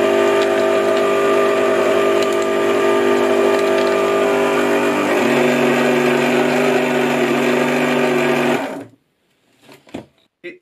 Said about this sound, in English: Let's just see if I can shred this.